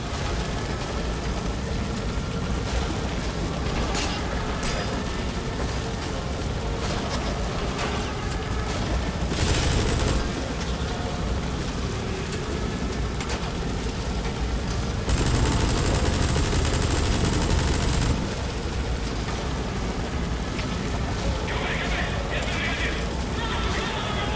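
Gunfire from the Metal Gear Solid V: The Phantom Pain video game comes as dense, continuous bursts of shots and booms throughout, loud and sustained, with the game's other noises mixed in.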